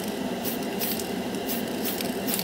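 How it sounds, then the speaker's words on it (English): A Tamiya spray can hissing paint onto metal spoons in short bursts, a close, steady airy spray with brief pauses between passes. "The first coat goes on heavy, but that's because it's a spray can."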